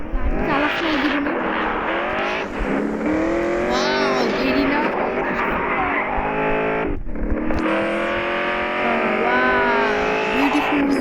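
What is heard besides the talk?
car driving in the video game Gangster 4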